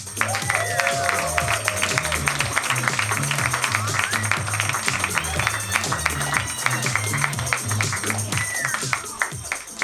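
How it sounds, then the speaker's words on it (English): Comedy club audience applauding and cheering a comic coming to the stage, a loud, dense, steady wash of clapping with whoops and voices mixed in throughout. "Give a big round of applause for Tahir Moore."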